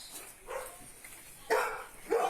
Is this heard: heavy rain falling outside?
no